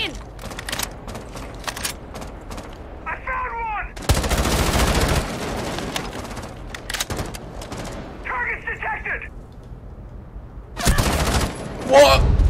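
Gunfire in the tactical shooter Rainbow Six Siege comes in several loud, sharp bursts, with a long sustained volley near the middle and another at the end. Quieter in-game effects and chatter fill the gaps between bursts.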